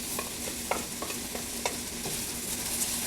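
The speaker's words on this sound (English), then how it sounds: "at this point, I'm going to put in my lentils" Lentils tipped into a pot of warmly spiced soup and stirred, giving soft scraping clicks of a spoon against the pot at a steady pace over a faint continuous simmering hiss and low hum, with no talking.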